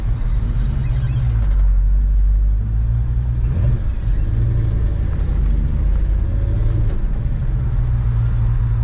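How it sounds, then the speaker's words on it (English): A 1966 Chevrolet Chevelle SS drives along, its engine giving a steady, deep, moderately loud rumble from inside the car, with slight rises in pitch as it pulls away. "Very nice sounding car. It's not overly loud, but it's not too quiet as well."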